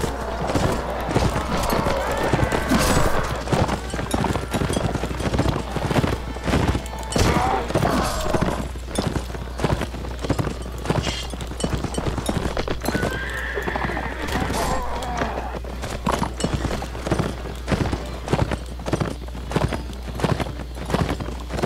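Horses galloping in the Mount & Blade Warband battle game, dense rapid hoofbeats with whinnies and clashing impacts, loud and continuous throughout with a voice talking over them.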